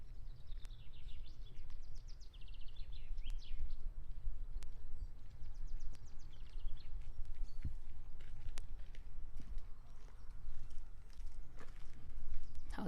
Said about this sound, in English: How do you like the birds? And the steps of the people passing by.